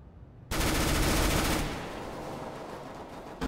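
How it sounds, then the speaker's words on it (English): A flashbang grenade goes off in Counter-Strike: Global Offensive with a sudden loud blast burst that holds for about a second, then leaves a sustained ringing, hissing wash that fades slightly. "Flashbang out!"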